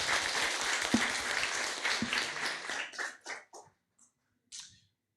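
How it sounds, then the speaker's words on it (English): Audience at a tech meetup applauds a speaker, dense clapping that fades out after about three seconds into a few scattered last claps and a small noise near the end. "big round of applause for Ionuț"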